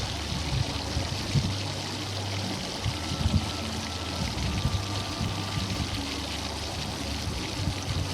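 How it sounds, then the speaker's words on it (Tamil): Cooking oil pours into a pan for frying Chicken 65, a steady trickling stream running continuously and evenly at close range, with no talk over it. "நான் எண்ணெய் கொஞ்சம் தான் சேர்த்துக்கிறேன்"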